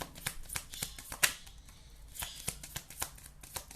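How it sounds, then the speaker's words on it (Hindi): Tarot cards being shuffled close up: quick riffling flutters and soft slaps repeat in short bursts at a steady rhythm. "ये प्रॉपर शफल होंगे, मैं वही लूँगी।"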